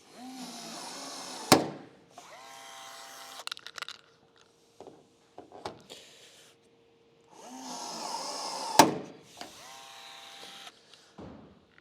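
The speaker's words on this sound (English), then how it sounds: "take our rivet gun, slide down over and rivet it to the roof" Rivet gun fastening a roof rack to the roof of a 2019-2023 Ranger camper: two sharp pops roughly seven seconds apart, each with whirring and clattering tool noise around it and quiet gaps between.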